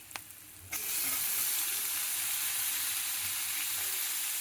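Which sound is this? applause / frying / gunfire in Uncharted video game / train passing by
frying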